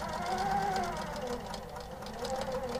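A longarm quilting machine on a small quilt frame stitches a long straight basting line with a steady, rapid mechanical hum and rattle, and a person talks briefly over it.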